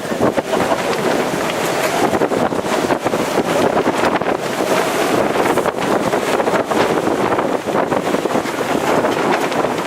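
Strong wind of about 20 to 25 knots roars while sailing a boat on San Francisco Bay, a loud continuous buffeting rush against the microphone with water and hull noise underneath and no speech.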